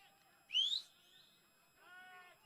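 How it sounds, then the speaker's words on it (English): A referee's whistle at a men's college soccer match, Tampa against Lynn, heard as one short rising blast at moderate distance, followed by a fainter tonal sound over a quiet background. "we've got a whistle"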